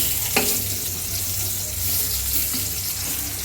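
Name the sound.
sweet pumpkin frying in oil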